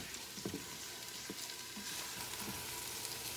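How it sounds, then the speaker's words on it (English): Onions caramelizing in an Instant Pot give off a steady broadband sizzle, with a few soft scraping or stirring knocks scattered through it. The sound is continuous and moderately loud, and no one speaks. "So there's my onions. They're starting to get good and caramelized."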